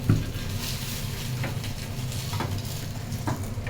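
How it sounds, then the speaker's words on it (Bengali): Chopped onion drops into hot oil in a pan for cooking rohu fish, giving a steady, close sizzle and crackle with faint stirring clinks throughout. "এই তেলটার মধ্যে দিয়ে দিব হচ্ছে পেঁয়াজ কুচি"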